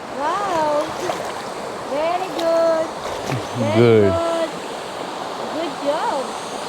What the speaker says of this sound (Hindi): ये ग्लेशियर का पानी, बर्फ़ पिघल के हिमालय से आई हुई नदी